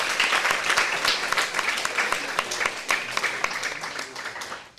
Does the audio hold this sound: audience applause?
yes